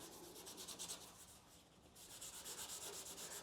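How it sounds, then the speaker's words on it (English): A red scuff pad rubs briskly back and forth over a car firewall surface before body filler goes on, making a rhythmic, close, faint rasping with a short pause midway. "scuff the surface really well so that I don't have any adhesion problems with my filler on there"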